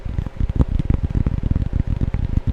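Quick, dense tapping mimics little raindrops striking an overhang, a close, continuous patter of soft irregular hits filling the moment with no talk.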